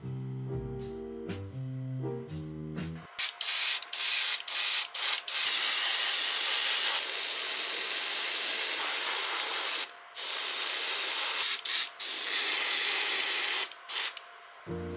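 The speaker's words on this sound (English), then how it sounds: "After spraying the primer and airbrushing it" Primer spray can and airbrush misting over a sculpted seal figure, loud steady hissing bursts of varying length with brief pauses between them, after a few seconds of soft music.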